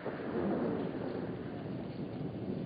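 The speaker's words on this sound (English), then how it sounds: "With this thunder, he'll come chasing home." Thunder during a storm, a long rolling rumble that swells and lingers at a steady moderate level, with rain or wind noise mixed in and no voices.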